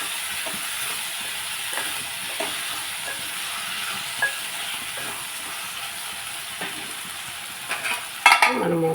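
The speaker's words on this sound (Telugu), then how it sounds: "మనం ఒకసారి కలిపేసుకుని మూత పెట్టేసుకుందాం." Curry being stirred in a frying pan, with a constant close sizzle and hiss carrying soft periodic scraping strokes of the spoon and a louder clatter near the end, with no talking.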